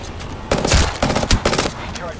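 Gunfire in a shooter video game: dense bursts of rapid automatic shots come in several clusters over a steady background, loud and close.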